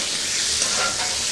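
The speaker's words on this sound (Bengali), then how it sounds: "ভালো করে ভেজে নিচ্ছি।" Boiled potatoes fry in spiced oil with a little sugar, giving a steady, close, loud sizzle with faint stirring scrapes throughout and no voices.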